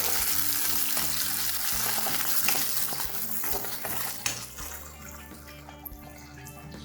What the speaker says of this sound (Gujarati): પાંચથી છ કાજુ અને એક ટમેટું સમારેલું એડ કરીએ છીએ અને મિક્સ કરી લઈએ